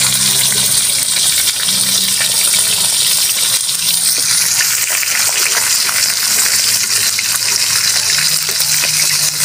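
Fish frying in a pan of hot oil gives a loud, steady, dense sizzle and crackle that runs without a break throughout, with no talking over it.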